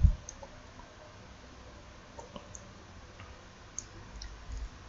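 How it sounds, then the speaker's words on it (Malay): A computer mouse clicks faintly during shift-dragging in Photoshop, giving a few sparse, light ticks over a quiet background. "Shift, drag mouse."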